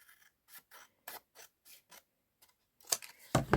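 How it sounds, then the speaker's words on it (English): Paper journal card for a Graphic 45 album being trimmed with scissors, a string of short close snips and rasps with quiet gaps, ending in a couple of louder cuts. "I'm going to trim off the other side."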